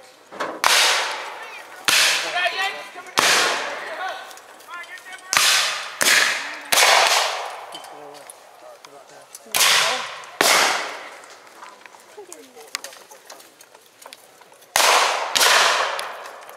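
Guns fire at a Civil War re-enactment: about a dozen loud, sharp reports spaced irregularly over the scene, each echoing and decaying before the next, with faint crowd sounds in the gaps.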